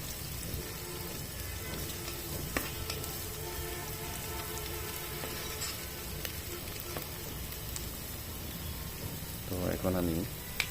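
Chopped onion and chili frying in oil inside a rice cooker, a quiet steady sizzle with a brief louder burst near the end, a faint voice present in the background.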